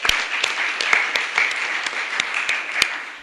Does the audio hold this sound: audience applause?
yes